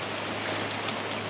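Steady rain falls outside a caravan, a soft continuous hiss of drops with no voices, brief and fairly quiet.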